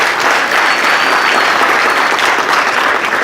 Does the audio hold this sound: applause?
yes